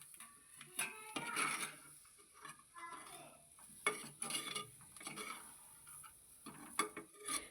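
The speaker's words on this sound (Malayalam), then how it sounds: "തക്കാളി ചേർത്ത് നല്ലപോലെ ഒന്ന് മിക്സ് ചെയ്യാം." Chopped tomato being stirred into a cooking dish in a pan, with scattered scraping clicks and soft taps from the spoon at an irregular pace, close and fairly quiet.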